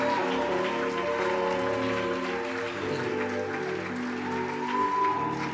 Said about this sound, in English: clap your hands to the glory of the living God